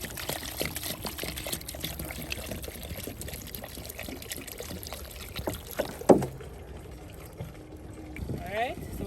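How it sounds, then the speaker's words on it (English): Water is poured into a pot for Jamaican pigtail, chicken and pumpkin soup at a campsite, a soft splashing trickle that runs for several seconds and then stops, with a brief clatter afterward. "We'll throw some more water now,"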